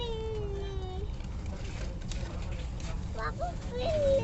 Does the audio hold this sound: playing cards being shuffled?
no